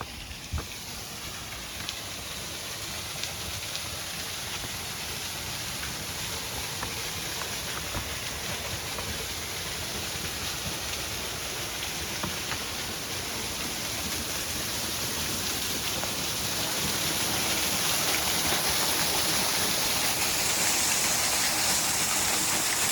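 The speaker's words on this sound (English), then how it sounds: "it looks like over here you can actually get up close to the waterfall" A waterfall at Rock Creek in Snake River Canyon pours in a steady, dense hiss, heard up close and growing slightly louder toward the end, with no voices.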